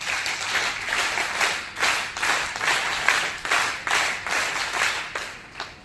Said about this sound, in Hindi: ये ताली ठीक से बजाओ।